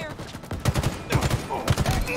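Rapid volleys of gunfire in a competitive shooter match, three clustered bursts of sharp cracks in quick rhythm, moderately loud and close.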